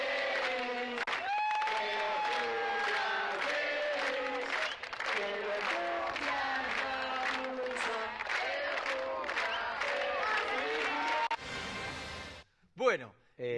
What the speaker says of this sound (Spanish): Ahí está, Gamusa, fuerte el aplauso.